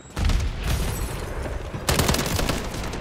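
Helicopter killstreak in Modern Warfare 3 firing its guns in a loud, continuous rapid burst of gunfire that restarts after a brief break, with no talking over it.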